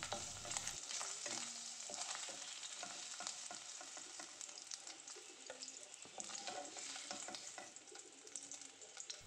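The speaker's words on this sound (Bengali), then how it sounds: "হালকা ভেজে পনিরের টুকরোগুলো তুলে নিচ্ছি।" Paneer pieces frying in a little hot oil in a pan, a dense crackling sizzle with occasional stirring clinks, close and continuous with no voices.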